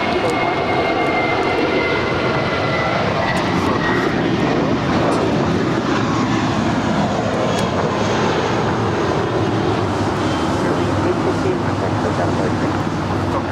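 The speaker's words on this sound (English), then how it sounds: "That was Spirit Airlines 868 departing to Dallas Fort Worth. It's an Airbus A320." A Spirit Airlines Airbus A320 departs Los Angeles airport, its jet engines producing a broad, steady roar that stays loud and sustained for over thirteen seconds, with faint voices in the background.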